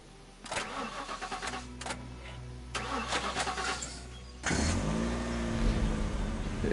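A car engine in the video game The Lant Sand: Aftermath cranks with a few clicks and whirs, then catches and settles into a steady, louder running rumble.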